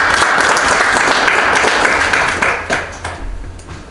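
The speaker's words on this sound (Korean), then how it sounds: "큰 박수로 부탁드리겠습니다" An audience at a Korean diaspora civic launch ceremony applauds to welcome a lawmaker, loud dense clapping that thins out and fades toward the end.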